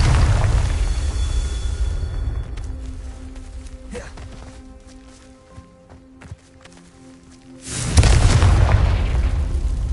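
A blasting spell goes off in Hogwarts Legacy with a deep booming burst at the start. It fades into scattered thuds and rattling debris, and then a second loud blast hits near the end.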